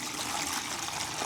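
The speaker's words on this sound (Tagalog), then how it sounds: "Lagyan na po natin ng tubig." Water pours steadily into a one-gallon container with 6 grams of dissolved powder for drinking water, a continuous bright trickling splash close by with no voices.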